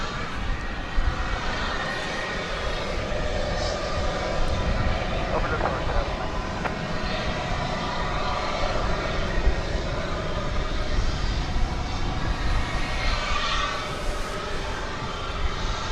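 A Spirit Airlines jet taking off at DFW Airport at night, a steady, broad engine roar heard from a distance, holding fairly level throughout, with faint background noise.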